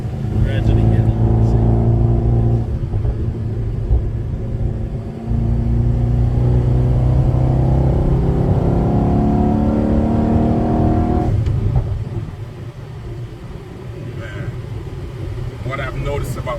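A Mercedes E63S AMG Stage 2 Plus engine revs and accelerates hard from inside the car, a loud sustained rising drone that drops back briefly around the four-second mark, surges again, then settles into a lower rumble while people talk.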